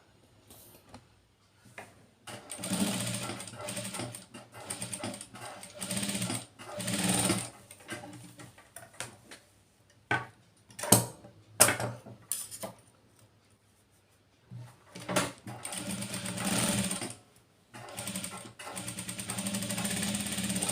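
A sewing machine stitches pieces of a small child's gown in loud, close bursts of rapid whirring, separated by short pauses.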